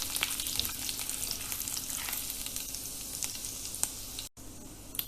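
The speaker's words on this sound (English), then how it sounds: "Add in chopped green chilies according to taste." Chopped green chilies sizzle in hot oil with whole spices such as seeds and cinnamon, a steady broadband crackle and hiss throughout with occasional sharper pops, close and fairly loud, no talking.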